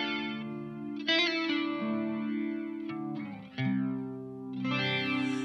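Guitar chords ring through a Keeley rotary speaker simulator pedal, a swirling, undulating wave that never fully drops out, with brief pauses between strummed phrases; clean and alone.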